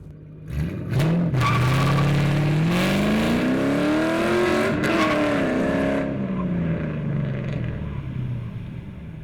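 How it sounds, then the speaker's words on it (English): A 2007 Ford Mustang GT makes a hard 0 to 60 acceleration run. Its loud, close engine climbs in pitch through several gear shifts, then eases off near the end. "we wanted to get the car out of the shop and just do a baseline 0 to 60 run"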